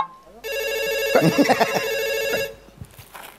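A mobile phone ringtone plays loudly for about two seconds, a bright electronic melody with strong harmonic tones, while a voice speaks briefly over it before it cuts off.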